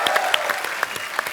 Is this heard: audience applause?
yes